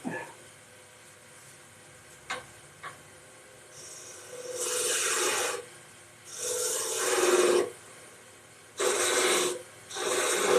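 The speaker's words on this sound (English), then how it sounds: "So I'm going to use my smaller skew because there's no nick in it." Small skew chisel finishing the top of a wooden lidded box spinning on a lathe, held by a live center, giving several bursts of raspy scraping and cutting, each lasting a second or two, between quieter pauses.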